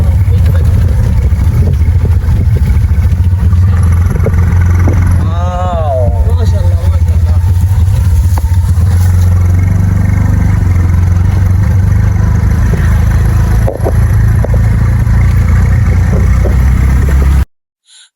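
A CNG auto-rickshaw rides along a hilly tea-garden road near Sreemangal, its engine a steady low rumble with rattles and wind noise. A brief voice rises partway through.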